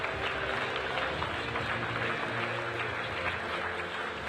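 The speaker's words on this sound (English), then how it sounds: "Rachel getting a well-deserved round of applause." Arena crowd at a men's volleyball championship final applauding an announcer's introduction, steady dense clapping throughout with a low murmur of voices underneath.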